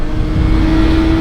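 A 2020 Kawasaki ZX6R sport bike engine revs loud and close, its steady high-pitched whine holding a constant note throughout the short stretch with no voices.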